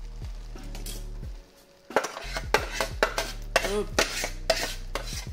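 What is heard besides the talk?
cooked pasta put back into wok and stirred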